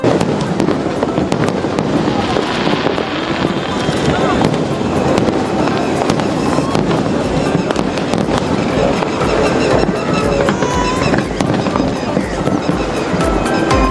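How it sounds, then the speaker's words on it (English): New Year fireworks burst over Lotus Tower in Colombo, a loud, dense barrage of cracks and booms packed tightly throughout, with crowd voices mixed in underneath. "ushering in the new year with a breathtaking fireworks display"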